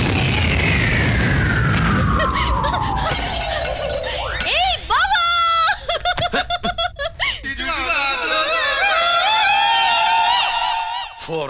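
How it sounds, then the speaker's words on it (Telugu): Firecrackers burst like bombs in a police station comedy scene: a long falling whistle gives way to sharp cracks and a rapid string of crackling pops, followed by loud ringing, chiming effects. "ఫోర్నాలు బాంబుల్లా ఫేలిపోయినాయి ఏంటి?"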